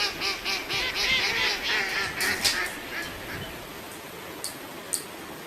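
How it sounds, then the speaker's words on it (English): Wild mallard duck quacking in a rapid run of nasal calls at moderate distance, followed by a few isolated quacks, with no talking. "mallard duck, mallard duck means जंगली बत्तख"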